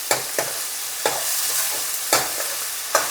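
Desi ghee sizzles steadily in a pan as dal tadka fries, while a spoon stirs and scrapes at intervals, with sharp clinks every second or so; no talking.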